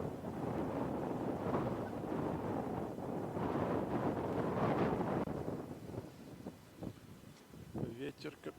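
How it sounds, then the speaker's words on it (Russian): Strong wind buffeting the microphone on a stormy seafront in Yalta in the evening, a loud continuous roar for several seconds that eases near the end as voices talk. "Ветер капец."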